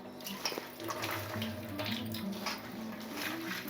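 Water is poured over raw mutton in a vessel to wash it before cooking, a quiet continuous splashing and trickling stream with small drips, close by and with no talking.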